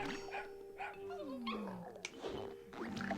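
Dog barks and whimpers for the zombie dog walker in Plants vs. Zombies: Heroes, several short yips and a falling whine over game music and effects, with faint talk in the background.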